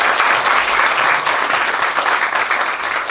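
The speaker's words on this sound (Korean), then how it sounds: "힘찬 박수 보내주시기 바랍니다." Congregation at a seminary graduation and degree ceremony applauding for four graduates, a dense, even burst of clapping throughout, fairly close, with no voices over it.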